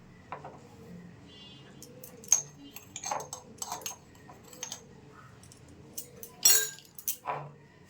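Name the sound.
mixing sweet batter with baking powder and baking soda in a bowl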